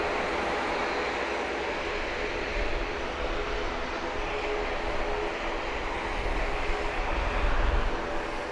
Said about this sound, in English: 956 is on approach from Miami. Be here in about 3 minutes. It's a 737-800.